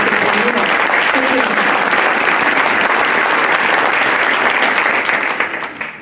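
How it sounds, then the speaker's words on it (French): Sustained, loud audience applause fills a New Year's greetings ceremony in Isola, dense clapping continuing steadily for several seconds before tapering off near the end. "Merci beaucoup Gaël, on peut vraiment applaudir le syndicat mixte"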